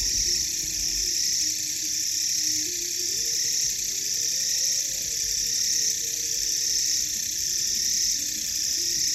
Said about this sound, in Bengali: শুধু ঝিঝি পোকার আওয়াজটা শুনুন